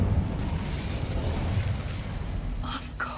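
Incendio fire spell cast in a video game, a low rumbling burst of flame with crackling pops that roars steadily, then a sharper whoosh and flare near the end.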